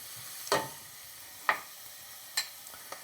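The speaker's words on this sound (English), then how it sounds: "As the garlic starts to pick up some color and starts to jump around in the hot oil" A soffritto of garlic, onion, celery and carrot fries in hot oil under a soft background hiss. Four sharp pops or stirring clicks stand out, spaced about a second apart, and no voices are heard.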